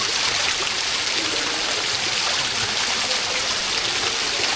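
Water from a hot spring flows in a constant bright hissing rush, loud and close, with no voices over it.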